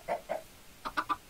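A chicken in a video game, stuck in a fence, gives a few short clucks: two near the start, then a quick run of four, close and clear.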